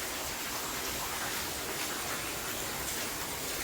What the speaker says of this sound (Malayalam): വമ്പം മഴയാട്ടോ പുറത്ത്